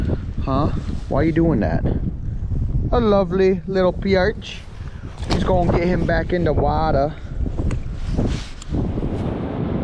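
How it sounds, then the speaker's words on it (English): Constant low rumbling wind buffeting an outdoor microphone on thin early ice while walleye fishing, heard under people talking throughout. "Sorry about the wind."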